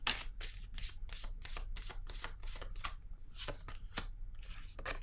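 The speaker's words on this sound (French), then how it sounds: "Allons-y avec une carte pour ici." Tarot cards drawn and handled on a table, a quick run of crisp riffling and soft slapping flicks that repeats steadily throughout and is heard up close, with no talk.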